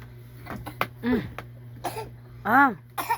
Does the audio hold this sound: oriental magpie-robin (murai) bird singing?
no